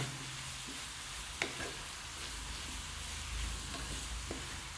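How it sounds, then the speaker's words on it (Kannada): Chicken for green curry fries in a pan with a quiet, steady sizzle of oil and a few soft clinks of a stirring spoon, heard close up with no talking. "ಕ್ಲೀನಾಗಿ ಫ್ರೈ ಮಾಡ್ಕೊಳ್ಳಿ."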